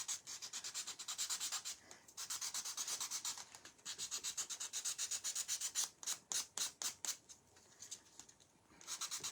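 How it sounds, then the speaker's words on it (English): A wooden board for a rustic sunflower craft is sanded by hand in quick, rhythmic back-and-forth strokes, with bursts of rapid scratchy rubbing separated by short pauses, close and fairly quiet. "Sometimes sanding is hard work, y'all."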